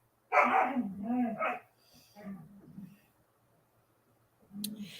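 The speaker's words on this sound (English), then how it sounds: "And you can't hear over the dog." A dog barks close by indoors, with a burst of several loud barks followed by a few softer ones and one more bark near the end.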